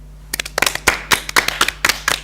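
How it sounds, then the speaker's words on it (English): Applause from a small audience at a conference opening ceremony: scattered, uneven hand claps in irregular bursts, close and fairly loud, with no voices over them. "Please join us in giving them a much-deserved round of applause."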